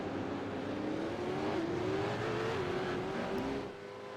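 Race cars of the Acuta AOSC Super Series run on the track at Montreal, with a steady loud engine drone whose pitch slowly rises and falls as the cars pass, heard at a moderate distance with no talking.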